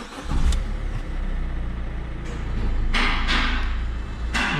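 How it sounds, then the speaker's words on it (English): A Peugeot 208 1.4 HDi diesel engine cranks and catches, then settles into a steady, close idle with a couple of brief revs near the end. "Now when I start the engine"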